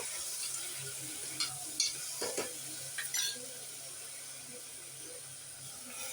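Ridge gourd palya fries in a pan with a soft, continuous hiss, broken by a few light scrapes and clinks of stirring in the middle, fairly faint and without speech.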